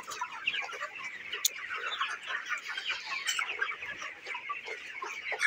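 A flock of broiler chickens raised in winter clucks and chatters continuously, many overlapping calls close by at a moderate level, with a few sharper squawks standing out.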